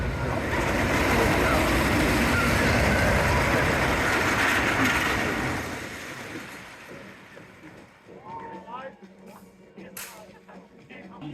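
Roller coaster train at Valleyfair amusement park rumbling loudly along its track on a rough ride, a sustained roar that fades after about six seconds into quieter clatter with voices and scattered screams.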